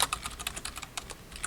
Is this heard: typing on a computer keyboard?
yes